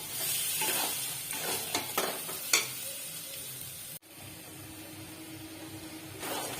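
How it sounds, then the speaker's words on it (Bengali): Amla cooked with jaggery and sugar is stirred in a pan, with a cluster of scraping spoon strokes early on, then a softer, steady bubbling sizzle. "এরকম বন্ধুরা, এরকম বেশ কিছুক্ষণ ধরে নাড়তে হবে, প্রায় আধ ঘন্টা।"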